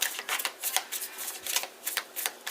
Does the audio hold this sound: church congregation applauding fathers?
no